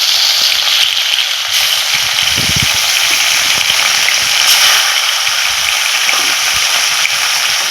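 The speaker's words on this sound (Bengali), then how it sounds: "লবণ আর হলুদ মাখানো মাছগুলো দিয়ে দিব আর তেলে একটু লবণ দিয়ে দিলে তেলটা কম ছিটকায়" Rui fish pieces coated in salt and turmeric fry in hot oil with a pinch of salt added, giving a loud, continuous close-up sizzle with no talking.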